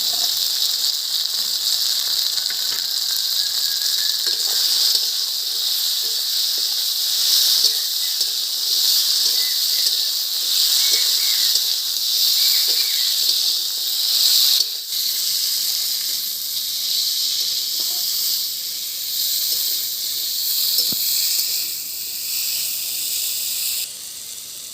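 Sajne data drumsticks sizzle in hot spiced oil for a thin Bengali rui fish curry, a loud, continuous frying hiss close by that stays steady throughout, with faint clicks of stirring.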